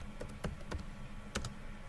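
Keys clacking on a computer keyboard while code is typed for a Unity racing game, a handful of separate crisp keystrokes in two short bursts, close and fairly quiet, with no talking.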